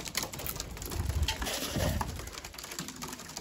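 Pigeons coo in low, soft, throaty bursts nearby, with light fluttering and background rustle during a short moment outdoors among a flock.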